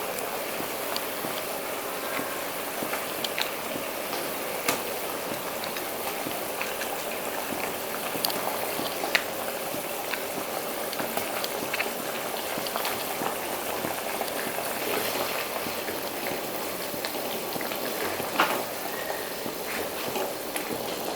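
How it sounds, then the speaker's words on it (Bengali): Prawn malai curry made with coconut milk bubbles in a pan, a steady close simmering hiss with small scattered pops and a few faint clinks, no voices. "আমি কোকোনাট পাউডারটা গুলে এর মধ্যে দিয়ে দিচ্ছি। একটু ফুটে উঠলেই আমি এর মধ্যে মাছগুলোও দিয়ে দেব।"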